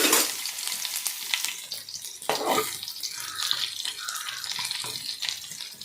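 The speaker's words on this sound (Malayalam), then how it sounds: "അതിലോട്ട് 2 ചെറിയ ഉള്ളി അരിഞ്ഞ് വെച്ചത് ഇട്ട് കൊടുക്കുകയാണ്." Chopped shallots dropped into hot oil with mustard seeds hiss and crackle in a steady, close frying sizzle, with a sharper burst partway through and faint stirring underneath.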